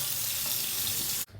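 Cold tap water runs in a steady close hiss for rinsing the face after skincare, then cuts off abruptly near the end.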